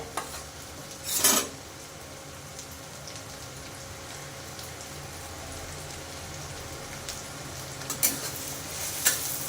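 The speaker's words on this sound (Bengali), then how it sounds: "দেখো কিছুটা ভাজা হয়ে গেছে পেঁয়াজ আর রসুনটা" Onion and garlic frying quietly in a pan, a soft low sizzle with a couple of brief stirring scrapes near the start and end.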